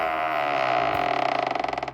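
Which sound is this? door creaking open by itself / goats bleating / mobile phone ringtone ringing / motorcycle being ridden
door creaking open by itself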